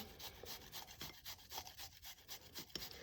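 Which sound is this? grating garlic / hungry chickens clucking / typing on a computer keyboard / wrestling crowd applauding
grating garlic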